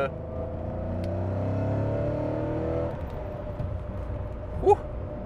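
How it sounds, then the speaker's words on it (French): Porsche 928 GT with a V8 engine revs through its exhaust under way, a loud, steady rising drone that drops off after a few seconds into quieter cabin noise, ending on a brief sharp squeak. "Oh, le son du V8, je pense que vous l'entendez."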